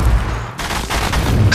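Rapid gunfire in a mobile shooter game played on a Google Pixel 6: a short, dense burst of overlapping shots over a sustained rumble, loud and close.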